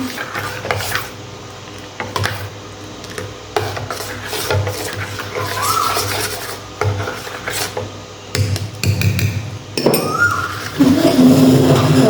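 Mint kulfi mixture with fresh lemon juice being stirred by hand in a bowl, giving continuous rasping, scraping strokes with occasional clinks, close and fairly loud, with no talking.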